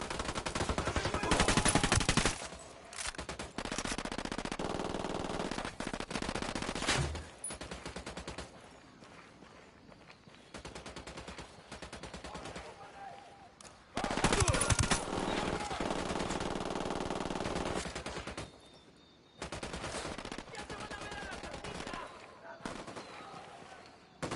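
Automatic gunfire in Ghost Recon Wildlands, repeated long bursts of loud rapid shots separated by short pauses, some distant echoing shots in the gaps.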